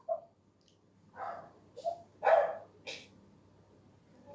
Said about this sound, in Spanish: el que ladra es mi perrito